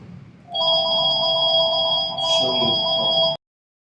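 A telephone rings loudly and steadily for about three seconds with a bright electronic tone, then cuts off abruptly into silence.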